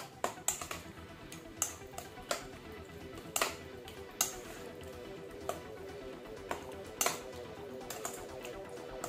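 Metal utensils clink and scrape against a bowl while a homemade sauce is stirred into fresh salmon sashimi in coconut milk, a quiet, irregular series of sharp taps over soft wet mixing.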